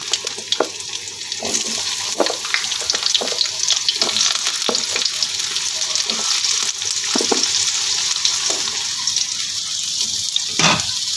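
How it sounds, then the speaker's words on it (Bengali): Potatoes fry in oil in a pan over tempered spices, hissing with a loud, continuous sizzle close up, while stirring adds occasional scraping knocks. No one talks. "ফোড়নটা ভাজা হয়ে গেছে এবার আমি প্রথমে আলুটা একটু ভেজে নেব"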